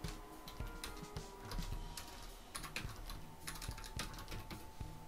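Steady typing on a computer keyboard entering a name in Korean script, with rapid continuous key clicks that are close and moderately loud and no voices.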